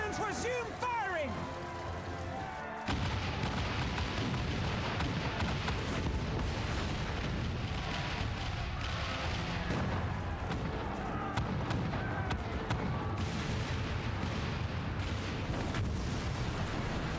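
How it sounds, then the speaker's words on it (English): Cannons boom in a Final Fantasy XIV battle scene, a dense rumbling barrage of blasts and impacts rolling on continuously after a short musical opening, with voices mixed in. "All cannons resume firing!"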